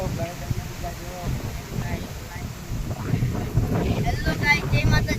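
Strong storm wind buffets the microphone in rough, uneven gusts that build louder toward the end, with a person talking over the roar.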